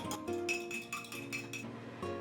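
Utensils clink against a dish as Chinese cabbage is mixed with hot broth, a quick series of bright metallic and glassy taps, close and fairly quiet, with no talking.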